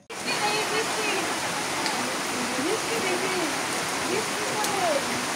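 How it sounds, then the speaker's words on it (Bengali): Rain falling in a steady, dense hiss that stays even and close throughout, with a voice faintly audible beneath it. "বৃষ্টির পানি জানি গায়ে পড়ে না, বৃষ্টির পানি জানি শরীরে না পড়ে।"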